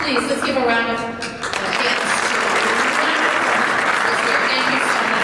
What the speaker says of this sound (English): Please, let's give a round of applause to